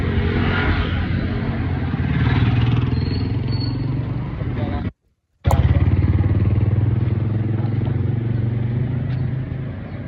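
A motorcycle idles and runs with a steady low engine rumble and mechanical clatter, loud and close, briefly cut off for a moment before resuming.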